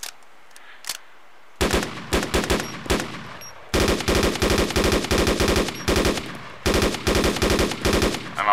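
An automatic rifle in the DayZ video game fires loud, rapid sustained bursts at close range after a few quiet clicks, with short pauses between long strings of rounds.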